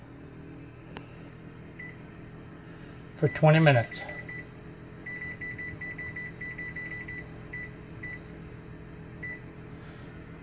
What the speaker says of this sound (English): And I'm going to set the timer